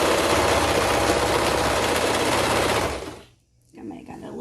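A sewing machine stitching the side seam of overalls runs in a steady, loud, continuous whir, then slows and stops near the end, followed by quieter room sound.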